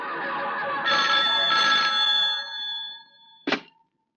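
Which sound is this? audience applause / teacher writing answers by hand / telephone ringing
telephone ringing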